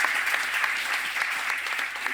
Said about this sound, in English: a massive round of applause to our guests